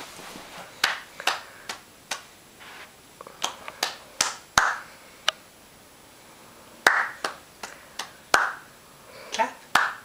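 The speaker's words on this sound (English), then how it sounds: "I'll get her to clap." A baby claps her hands in short bursts of sharp, crisp claps spaced irregularly over several seconds, close by, with a few soft voice sounds between them.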